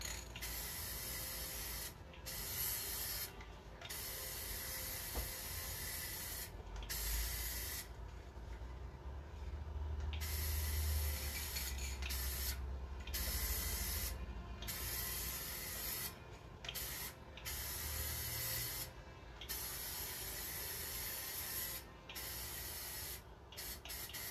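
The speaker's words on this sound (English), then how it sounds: "So I'm just kind of spraying the areas that I want all of the details on." A spray bottle hisses in repeated short bursts, some quick and some longer, with rubbing and wiping sounds in between.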